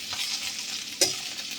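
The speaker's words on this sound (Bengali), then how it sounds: "মিষ্টি দিয়ে এটাকে আর একটু নাড়বো।" Food frying with sweetener added is stirred in a pan: a soft, steady sizzle with two sharper scrapes of the spatula, close and without speech.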